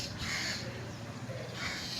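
Crows caw loudly from a tree in front of a house, two harsh calls spaced about a second apart, near and clear over a quiet outdoor background.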